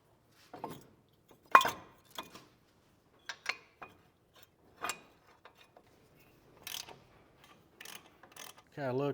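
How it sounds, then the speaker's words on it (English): Scattered metallic clicks, taps and ratcheting as bolts are fitted on a brake caliper bracket during a wheel bearing assembly replacement, sparse and close, ending in a brief wavering whir. "then we can get the brake caliper bracket installed"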